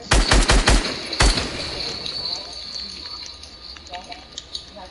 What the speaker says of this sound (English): this guy's probably shooting us down right now